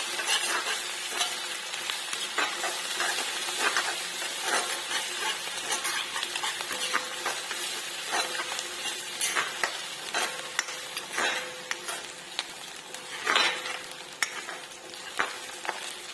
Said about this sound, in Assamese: ভাজি ল'ম ধুনীয়াকৈ আদা নহৰু গোন্ধটো যোৱালৈকে।